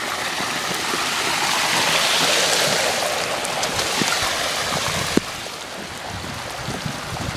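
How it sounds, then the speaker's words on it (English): Floodwater rushing along a road after a hailstorm in New York, a steady broadband wash of flowing water that stays loud and close throughout, with a single sharp knock near the end and no speech. "all this flooding water."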